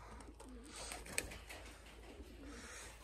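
Pigeons at a flyers loft coo softly and intermittently, faint and somewhat distant against a steady low background hum, with no talking.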